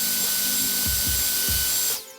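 A small tool with a 2.5mm tapered bit enlarges a hole in a Mini 4WD VZ chassis part, a close, loud, steady whir with a few rhythmic low bumps before it stops abruptly.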